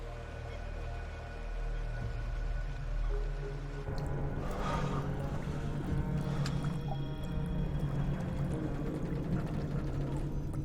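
Water sloshes and laps around the US Airways Flight 1549 airliner as it floats on the Hudson River after ditching, soft liquid splashes and drips over a low steady rumble, with no voices.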